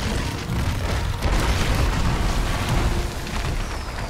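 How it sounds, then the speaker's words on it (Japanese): A sustained, dense roar of an explosion rumbles through a fight in Monster Hunter World: Iceborne. It is loud and continuous, heavy in the low end, with no talking over it. "あれ、爆発した。"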